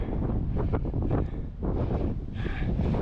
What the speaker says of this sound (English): We're getting up on a ridge. Yep, pretty windy.